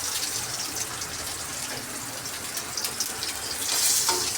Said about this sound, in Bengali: ডিমগুলোকে এক এক করে আমি ভেজে নেব